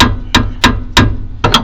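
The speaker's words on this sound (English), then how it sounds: "we're just gonna tap on the arm a little" Metal hammer taps on a brake caliper arm, five sharp, close, loud strikes at a quick, slightly uneven pace, the last two nearly doubled.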